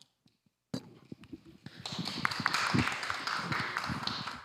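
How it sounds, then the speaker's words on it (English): Applause from a conference audience rises after a few scattered taps, becomes a steady crowd of hands clapping together, then starts to fade toward the end. "Please greet him with a big round of applause."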